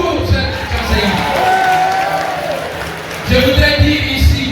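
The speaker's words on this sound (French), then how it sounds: "Encore une fois, applaudissez pour vous, chers enseignants." An audience claps and cheers for teachers at a gathering in Kankan, the applause swelling loudly near the end over steady crowd noise, with a voice speaking over it.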